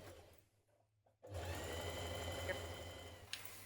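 A sewing machine stitches a facing to a top along a 1 cm seam, starting after a brief quiet pause and running as a steady, even whir, close and alone, with a small click near the end.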